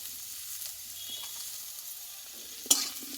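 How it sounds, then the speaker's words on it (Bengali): Ground spices — cumin, coriander and turmeric — being stirred in a frying pan for an egg and green papaya dish, a soft steady sizzle with faint scraping and one sharp utensil clink near the end. "এই মশলাটা দিয়ে আমি একটু নাড়াচাড়া করে নেবো"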